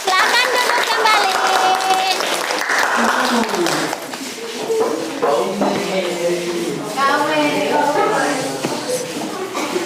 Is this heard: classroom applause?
yes